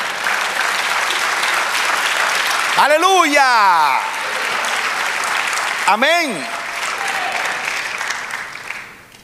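A church congregation applauds steadily throughout, a broad continuous wash of clapping while voices shout praise over it twice.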